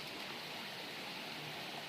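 Creek water rushes steadily where a trail on the Allegheny Trail crosses in and out of the stream on a rainy day. The wash is close, even and unbroken, with no voices.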